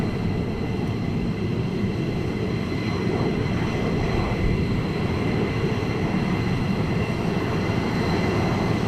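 F-15 fighter jets taxiing at RAF Lakenheath produce a continuous, loud engine roar and whine that holds steady throughout, close to the listener with no talk.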